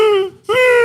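A human voice imitates a dog whining: two short, high, nasal whimpers separated by a brief gap, close and loud.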